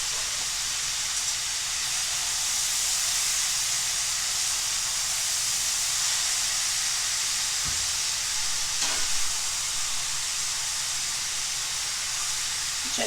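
Meat for chicken and steak fajitas frying in a pan, a loud, steady close sizzle and hiss with a couple of brief bumps, no talking.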